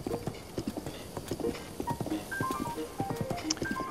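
Hooves of a galloping horse in Zelda: Breath of the Wild make a steady, close clip-clop rhythm. Scattered short game chimes and tones come through over the hoofbeats, and no one speaks.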